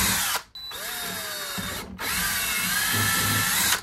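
A power drill with a 5/32 drill bit bores through the plastic of a Pelican Vault 730 case in two short bursts, whining close and loud, with a brief pause between runs.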